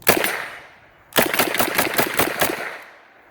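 A semi-automatic carbine with green furniture fires at a Knob Creek shooting event: one loud shot, then a quick rapid string of about eight shots, with sharp reports and some outdoor echo.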